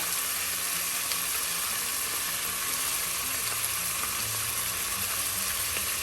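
Ginger paste fries in a pan with a constant, even sizzle that stays close and moderately loud throughout, with a few faint stirring ticks.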